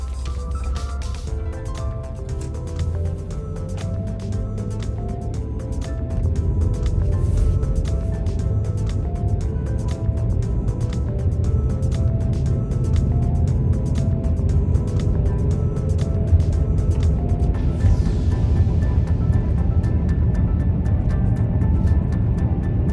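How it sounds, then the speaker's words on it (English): A V6 car pulling away and driving on the road, a steady engine drone with rising road and tire noise that gets louder after a few seconds, heard from inside the cabin. "First, taking off in Red Fox, since we're doing driving impressions."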